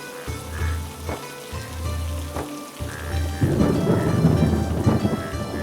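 Heavy rain pours steadily during a storm at night, with several low thunder rumbles and cracks at first, then the downpour swells louder and denser.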